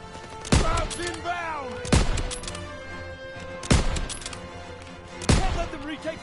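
Heavy gunfire in the World War II shooter game Call of Duty WWII cracks out in four loud, booming volleys, evenly spaced about a second and a half apart, each trailing into rumbling battle noise.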